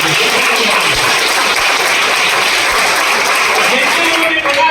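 An audience in a meeting hall in Vashi claps loudly in a dense, continuous burst of applause that fills the whole stretch, with some crowd noise mixed in.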